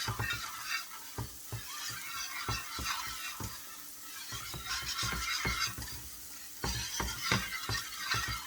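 Sausage gravy thickened with cornstarch is stirred in a pan as half and half goes in, with repeated rhythmic scraping strokes of a utensil over a soft, fairly quiet sizzle and no talking.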